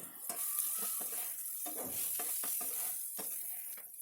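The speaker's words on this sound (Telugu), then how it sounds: "ఇప్పుడు టీ స్పూన్ ఉప్పు వేసుకుంటే మంచిగా ఫ్రై అవుతాయి." Sliced ivy gourd fries in a pan over medium flame, a soft continuous sizzle broken by scraping spoon strokes and light clinks of utensil against metal, fairly quiet, nobody talking.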